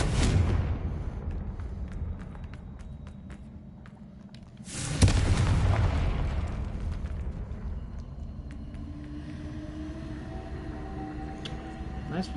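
Confringo spell blasts in Hogwarts Legacy go off as two deep booming explosions several seconds apart, each a sudden loud burst that fades into a long rumbling tail with softer ambient game sounds between.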